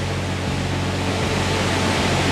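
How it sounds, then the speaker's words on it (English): Powerful waterfall roars as a dense, steady rush of broadband water noise, close and loud with no pauses or voices. "I can't remember the last time I saw a waterfall that awesome before."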